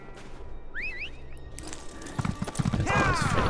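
Horse hooves clip-clop in the Elder Scrolls Online game, a steady rhythmic trot near and clear. A whinny sounds early on, and someone talks over the steps.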